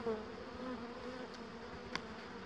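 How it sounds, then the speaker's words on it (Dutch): Honeybees buzz over a hive frame during a beehive inspection, a soft, steady drone of many insects close by, with a couple of faint clicks and no talking. "zodat de bijen wat weglopen van de randen"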